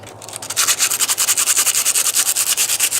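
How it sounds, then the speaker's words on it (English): A knife blade is sanded by hand with coarse 60-grit sandpaper in quick, even back-and-forth strokes, a close, loud, rhythmic rasping scrape with no talking. "sand it down like this until basically I get it down to bare metal"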